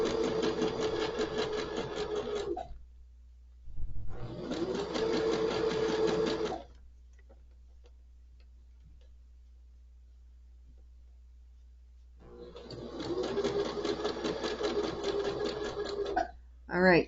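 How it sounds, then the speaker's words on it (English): A sewing machine stitches curved Drunkard's Path quilt pieces in three close, steady bursts of whirring, separated by quiet pauses for adjusting the fabric. "Then we just keep sewing."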